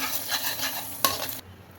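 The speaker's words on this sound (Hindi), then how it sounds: "अब हम इन सारे मसालों को इस तेल में डाल के अच्छे से भून लेंगे।" Whole spices and Kashmiri chili sizzle and crackle in hot oil, with a soft scraping stir and a brief clink of a utensil against the pan.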